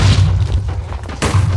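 Explosion in the Minecraft video game: a loud, deep booming rumble that fills the clip, dipping briefly in the middle before swelling back up, with no talk.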